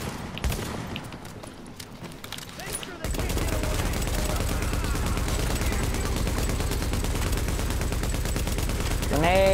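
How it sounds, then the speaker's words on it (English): Gunfire in The Division, starting as scattered shots amid quieter noise and then turning into a loud, sustained rapid volley, with voices talking. "Shotgun battles."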